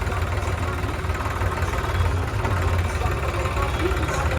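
Many tractors idling together at a grain market in Punjab during a farmers' gathering, a continuous low engine rumble close by, with voices mixed into the background.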